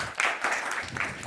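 Audience applause at an Estonian televised apple-hunt event, a short burst of clapping from a crowd, moderately loud and briefly swelling.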